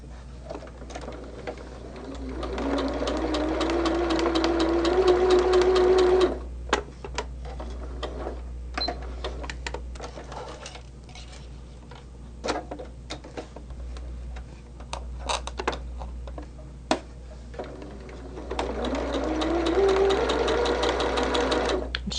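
A sewing machine stitches pieces of a Christmas tree quilt car block in two steady running bursts, with a quieter pause of scattered clicks and handling between them while the needle is raised and the fabric shifted.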